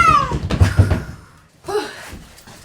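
A cat meows twice, a short falling cry at the start and another after a pause, with soft knocking thumps and clatter in between, close and without talk.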